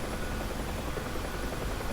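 Steady, loud rotor and turbine drone of a UH-1 Huey helicopter in the DCS World flight simulator, a continuous close whir with no talking over it.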